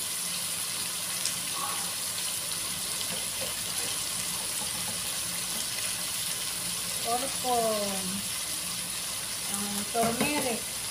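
Chicken pieces sizzling in a frying pan for gintaang manok, a soft steady crackle and hiss throughout, joined near the end by brief clinks and scraping of stirring, with faint background sounds.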